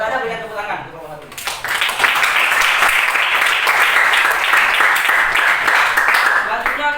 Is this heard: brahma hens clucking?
no